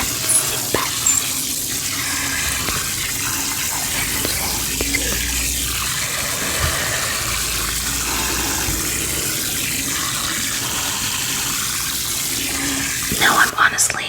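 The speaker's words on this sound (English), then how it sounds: "let's rinse that again" Water runs steadily while hair is rinsed during a hair salon role-play, a continuous close wash of flow with a few soft splashes, and a brief louder burst near the end.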